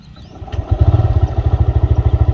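A TVS Raider 125 motorcycle starts up nearby. A brief starter whir is followed by the engine catching, then settling into a steady, rhythmic idle putter.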